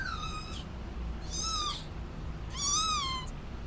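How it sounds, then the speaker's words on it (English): A two-week-old kitten gives three separate high, wavering meows, each about half a second to a second long, close and clear over a low steady background hum. "Yeah, that is a 2-week-old kitten"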